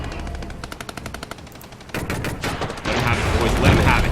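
Machine-gun and rifle fire in the war strategy video game Regiments, rapid bursts that thicken into a dense, loud, continuous volley, with someone speaking over the shooting.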